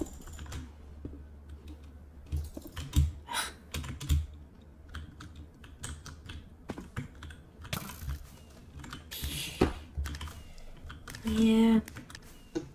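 Rapid mouse spam-clicking on a computer during Minecraft duels, bursts of fast clicks and keyboard taps running through the whole stretch, fairly close, with a louder flurry near the end and brief speech in the background.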